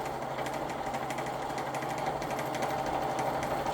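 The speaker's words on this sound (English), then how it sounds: "with the motor running at 718 RPMs, that is about the ideal buffing speed" Buffing machine motor spinning at 718 RPM on a low-cost setup with a 2.5-inch pulley, giving a steady, even mechanical whir with a faint fast rattle throughout.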